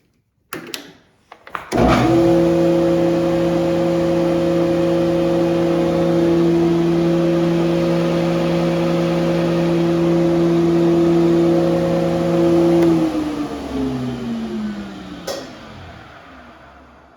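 A Grizzly G0634X 12-inch jointer/planer with a 2 hp motor switches on, spins up into a steady, fairly loud hum and whine for about eleven seconds, then coasts down as it shuts off.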